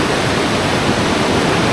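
A river waterfall in a Malaysian rainforest park pours as a loud, steady, dense rush of water that fills the whole moment without any break.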